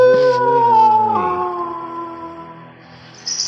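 A dog howls in a dinosaur hunting video game: one loud, drawn-out, falling howl that fades over about three seconds, followed by a brief rustle at the end.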